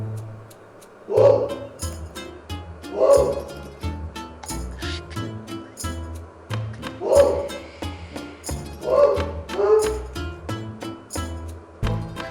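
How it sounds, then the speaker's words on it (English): A dog in a French village barks and yelps repeatedly in bursts while lunging at a wild boar, the sharp barks sounding close and fairly loud over a quiet background. "The dog lunges at him, and the boar teaches him a lesson, then goes on his way."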